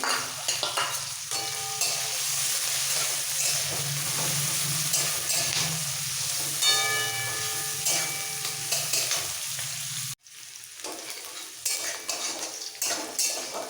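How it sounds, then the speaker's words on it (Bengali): Chopped onion and green chillies frying in oil in a pan for poha, with a steady sizzle and frequent scraping and clinking of a metal spatula against the pan, close and continuous. "এবার পেঁয়াজ আর লঙ্কাটাকে একটু ভেজে নেব"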